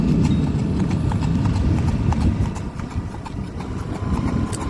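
Horse hooves clip-clop steadily as a rider eases a racing horse into motion on wet ground, a continuous loud rhythmic patter with an engine hum underneath.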